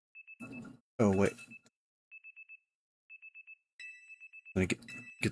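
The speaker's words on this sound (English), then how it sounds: "Let me get this alarm off." An alarm beeps in quick repeated bursts of high electronic tones, pausing between groups, while voices talk over and between the beeps.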